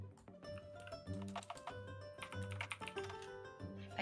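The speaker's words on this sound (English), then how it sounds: "I hear him typing." Rapid typing on a computer keyboard, a busy run of close, crisp key clicks in uneven bursts over a faint background hum.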